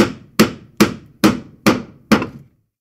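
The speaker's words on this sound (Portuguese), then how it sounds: "Calma, Jai, eu só estou pendurando o quadro." Six sharp hammer blows strike a nail at an even, unhurried pace, each crisp knock ringing briefly before the next.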